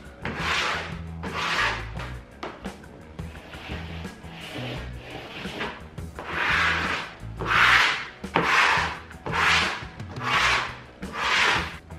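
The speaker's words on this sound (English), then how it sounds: "With a smoother tool, smooth it down." A smoother tool drags across stone-look wallpaper on a wall, making rhythmic rasping strokes that swell and fade one after another, close and fairly loud with no talking.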